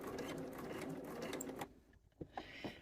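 Sewing machine stitches a shirt sleeve placket, running in a steady close whir for over a second before stopping, followed by a few soft handling knocks.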